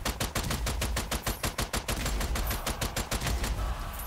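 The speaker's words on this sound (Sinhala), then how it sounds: "Splendid shooting, Strange Brigade." Rapid bursts of gunfire in the video game Strange Brigade crackle loudly and continuously, with dense repeated shots in quick rhythm.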